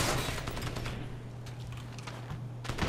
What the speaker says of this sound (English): I'll snipe the rest of these fuckers.